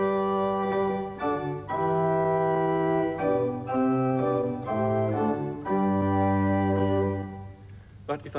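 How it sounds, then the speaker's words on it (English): Pipe organ on its principal, or diapason, stops plays a slow chordal passage, full, steady sustained tones shifting chord by chord, resonant and moderately loud with no voices. "if I choose these here, which are called the principal or diapason, it's the typical sound of the organ"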